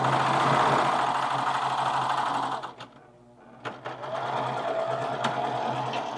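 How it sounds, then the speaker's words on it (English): A cover stitch sewing machine runs fast and steady on a crossbody bag, a loud whirring drone that stops briefly, then starts again and carries on. "Yes, he's using the cover stitch."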